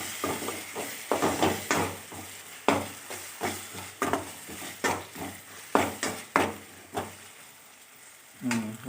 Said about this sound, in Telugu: మంచిగా అల్లం కలుస్తట్టు కలబెడదాం